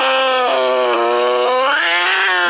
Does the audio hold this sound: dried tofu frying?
no